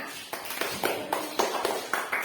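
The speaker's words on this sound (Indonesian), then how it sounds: "tepuk tangan untuk Tina." Students in a classroom clap for a classmate, a short burst of scattered, fairly close applause with irregular sharp claps that fade after about two seconds.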